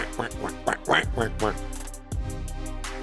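A voice imitating a duck with nasal quacking sounds during NBA 2K24 basketball game commentary, several quick quacks in a row, close and loud over steady game background noise.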